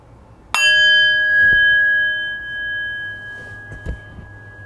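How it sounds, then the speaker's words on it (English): A meditation bell is struck once, giving a sharp bright strike followed by a long, pure ringing tone that slowly decays over several seconds in a quiet room, with faint soft handling sounds near the end. "in just a moment I will ring the bell, ending our 3rd round of meditation."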